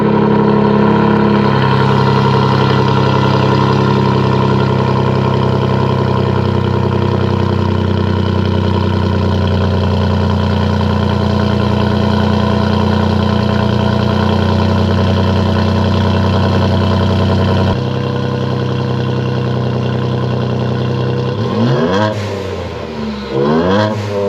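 A 2.7L EcoBoost Ford F-150 pickup with an SPD Performance exhaust idles loudly and steadily up close, then revs sharply a couple of times near the end with a rising and falling turbo whine.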